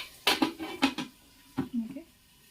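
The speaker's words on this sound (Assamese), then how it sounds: "মই এতিয়া অকণমান সময় ঢাকোন দি দিম" A metal lid is set onto a cooking pot of rajma with tomatoes and salt, giving a few sharp clanks and rattles close by before it settles.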